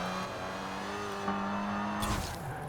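A classic Citroen DS on race tires in Forza Horizon 4 holds a loud, steady engine drone with a high whine, shifting pitch slightly as it runs, before a sudden rushing burst near the end.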